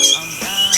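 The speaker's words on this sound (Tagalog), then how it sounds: "ito yung bago nating new bird" A newly arrived pet bird in an aviary gives two short, loud, close squawks less than a second apart.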